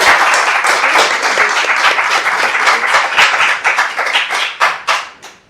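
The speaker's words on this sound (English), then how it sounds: "And I clap for you." An audience at an Easton rent control meeting claps in a lively burst of many hands, loud and close, thinning into a few scattered claps before stopping.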